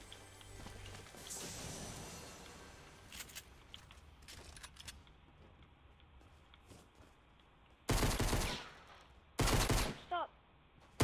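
Video game gunfire sounds as two short, loud, rapid bursts near the end, set against a quieter stretch of scattered clicks and faint background noise.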